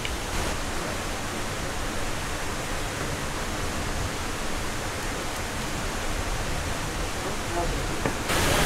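Second waterfall beside a hiking trail on Mt. Kasahingan, a constant, dense rushing of falling water that fills the scene without pause.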